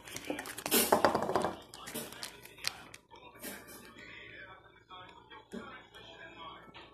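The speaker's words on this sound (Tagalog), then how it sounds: "Haluin lang ng haluin" A utensil stirs oyster sauce into a cooking pan, giving close metallic scrapes and clinks in an uneven rhythm, louder at the start. A voice is heard partly over the stirring.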